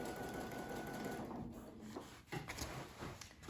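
A twin-needle sewing machine stitches along a seam in heavy fabric, a quiet steady mechanical whir that briefly dips and resumes, heard close and fairly faint.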